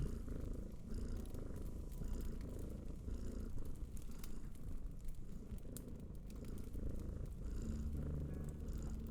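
A close, loud, steady cat purr rumbling continuously, with no voices and only faint background noise.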